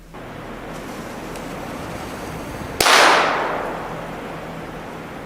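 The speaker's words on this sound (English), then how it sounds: "he lights what appear to be firecrackers, the loud pops just meant to scare off whatever wildlife might be nearby" A single sharp firecracker bang bursts out midway at a remote camp, loud and close, set off to scare off bears, its crack decaying into a long hissing tail over steady quiet outdoor ambience.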